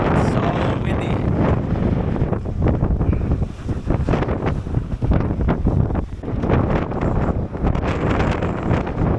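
Strong wind buffets a microphone on a cruise ship deck, a constant loud roar with gusty surges throughout and faint voices underneath.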